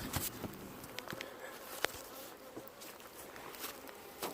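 A honeybee swarm buzzes steadily throughout a swarm capture, a dense insect hum with scattered brief knocks and taps, no talking.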